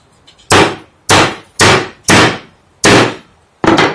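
A hammer taps a cut wire end flat against a nail during a re-wiring job, six sharp, loud, ringing metallic strikes spaced about half a second apart, close by with no talk.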